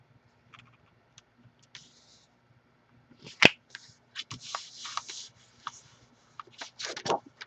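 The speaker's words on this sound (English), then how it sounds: "I'm just removing the tape backing and lining it up" Backing peeled off double-sided tape on a paper mini album, sharp close crackles and tearing rips in short bursts with a louder snap midway, quiet pauses in between.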